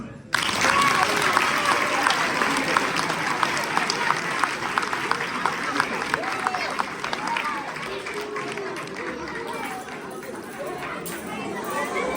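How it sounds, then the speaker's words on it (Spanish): Audience applause at a children's school Christmas festival, a steady crowd clapping mixed with chatter and children's voices, sustained for the whole stretch at moderate distance. "Aplausos."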